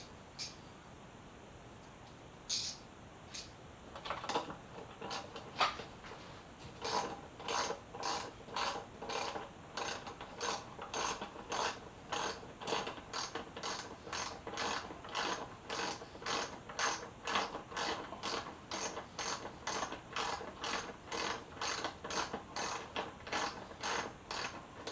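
A ratchet tightens motorcycle bolts on the front end of a crashed Yamaha FZ6R, sharp rapid clicks in irregular bursts at first, then settling into a steady rhythmic series of close, crisp ratcheting strokes.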